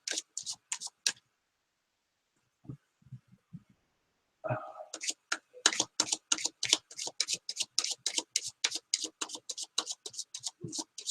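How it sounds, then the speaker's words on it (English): Quick riffling clicks of cards being shuffled up close, in bursts separated by short pauses, then a long rapid run of crisp snaps. "I'm going to shuffle, people. I'm going to shuffle."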